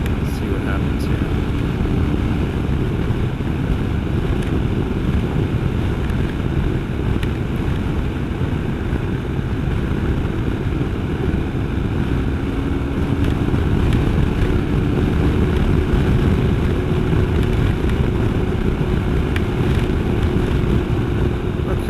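Wind buffeting on a helmet while riding a BMW R 1250 RS motorcycle fitted with a Puig racing screen, a loud steady low rumble of rushing air and engine under a rider's talk.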